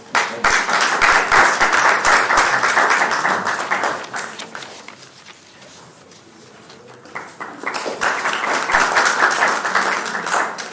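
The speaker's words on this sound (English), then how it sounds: "Please give a big applause." A conference audience applauds during a memento presentation at a university excellence event, claps swelling loud, easing off mid-clip, then building again to a full, dense round.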